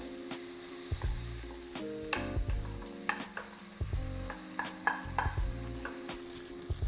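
Onions cooking in butter in a pan sizzle steadily, with a utensil stirring and scraping them now and then, close by and without speech.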